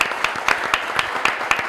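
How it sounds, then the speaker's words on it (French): A crowd at an event in Lubumbashi applauds with rhythmic, evenly spaced clapping, a steady beat of hands over a constant bed of broader applause. "merci d'applaudir"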